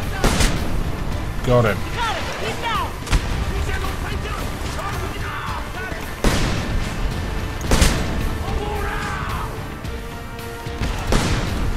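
Gunfire at soldiers in the video game Homefront, sharp booming shots scattered among game sounds while someone talks over the action.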